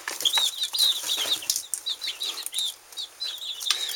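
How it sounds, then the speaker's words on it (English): Eleven homegrown chicks chirp in high, repeated peeps with bursts of wing flapping, close and busy, with no voices. "these are my 11 homegrown chicks."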